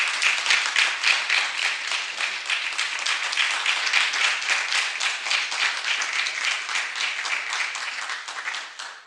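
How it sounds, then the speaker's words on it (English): Audience applause fills a county commissioners' evening event, a steady wash of many hands clapping that holds for several seconds and fades slightly at the end, with no talk over it. "give my bestie another round of applause"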